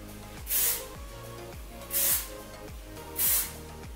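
Three short bursts of hairspray hiss onto hair during a beach-wave styling session, evenly spaced about every 1.4 seconds, close and bright, with a faint low hum underneath.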